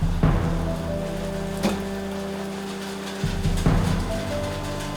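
Steady rain falls outdoors as a continuous broadband hiss, with a few brief louder bursts and a low hum running underneath, no voices.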